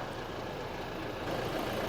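Toyota Fortuner 2.8 V diesel from 2018, with the engine running as a steady low rumble that stays even and continuous, heard close up with no talking over it.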